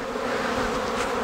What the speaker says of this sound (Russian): Пчелки работают.